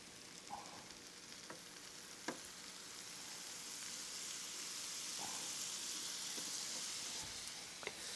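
Butter melts on a hot griddle beside cooking veggies for a brisket cheesesteak, giving a steady soft sizzle with a few faint clicks and taps over it, no talking.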